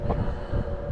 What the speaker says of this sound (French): on va remettre un coup de moteur, un appui moteur